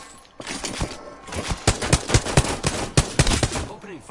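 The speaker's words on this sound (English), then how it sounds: "Opening fire on the enemy." Rapid gunfire from a PS4 shooter game, loud bursts and single shots cracking in a fast irregular rhythm for several seconds over a busy game soundtrack.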